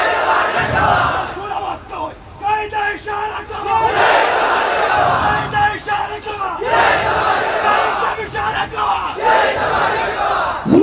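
A large crowd at a religious gathering shouts a response in unison, loud and close, in repeated chanted bursts with brief dips between them.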